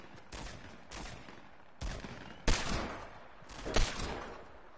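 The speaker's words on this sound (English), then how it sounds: "I'm going to shoot them." Gunfire in a PS4 shooter game: five loud, reverberant shots or short bursts spaced roughly a second apart, each followed by a rumbling tail, with no speech over them.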